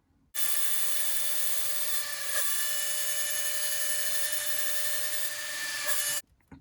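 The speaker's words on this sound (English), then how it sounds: "So realistically, I need to be drilling another hole somewhere about" A drill bores a hole while building a Mario Kart diorama, giving a loud, steady high whine that runs for about six seconds with a brief catch midway, then stops abruptly.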